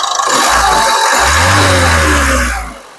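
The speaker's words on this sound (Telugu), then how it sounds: "ఇంజన్ యొక్క నాయిస్ అనేది వినిపిస్తున్నాను ఒకసారి వినొచ్చు" A 2017 Ford EcoSport Titanium engine runs steadily, then surges into a rising rev before settling and fading toward the end, loud and close.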